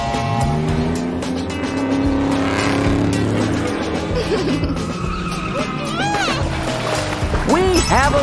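Toy cars race on a pool-noodle track with loop-de-loops to a loud race-car engine and tire-squeal effect, while a voice speaks over the roaring, skidding sound.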